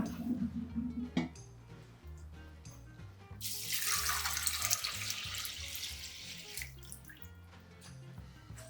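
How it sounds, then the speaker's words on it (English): Water swishes and splashes as rice is washed in a bowl, gently swirled in a circular motion, with a stretch of rushing tap-like water midway and small clinks, close and fairly quiet. "Wash the rice by gently swishing in a circular motion."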